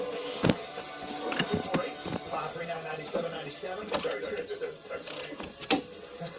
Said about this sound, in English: Torque her down.